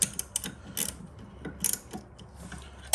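Ratchet wrench clicking while working on a Toro single-stage snow thrower, producing short bursts of sharp, close metallic ticks separated by pauses, with irregular spacing.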